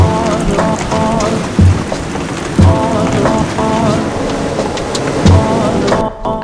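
A supercell storm lashes a small sailboat with heavy, steady rain and rumbling thunder, a loud continuous downpour with repeated low booms breaking through.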